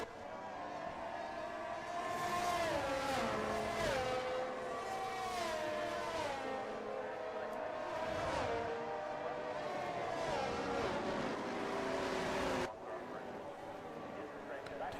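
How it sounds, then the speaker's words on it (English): Formula E electric race cars pull away on the formation lap in Mexico, their rising and falling motor whines overlapping continuously with voices talking throughout. "So the drivers have pulled away here in the formation lap we go"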